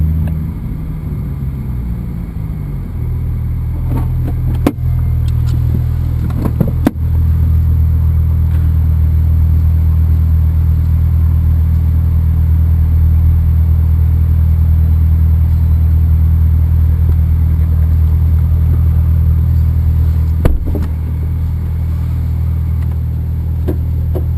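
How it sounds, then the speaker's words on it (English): A Porsche on the Circuit Paul Ricard race track slows hard to a quick stop, its engine giving a steady loud low rumble inside the cabin with a few brief knocks, and no talking. "so we just do a quick stop here on the blue line"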